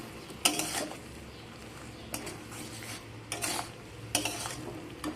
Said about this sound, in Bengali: আবার একটু আমি নাড়াচাড়া করে নিচ্ছি।